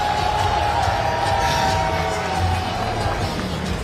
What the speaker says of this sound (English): Gets a big welcome here from the Nashville crowd.